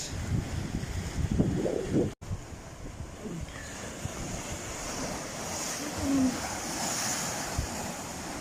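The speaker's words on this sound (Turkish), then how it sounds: "mağara gibi her taraftan sular geliyor dalga vurdukça" Sea surf rumbles and washes steadily against rocks carved into cave-like hollows at a beach, with wind buffeting the microphone and a sharp dropout early on.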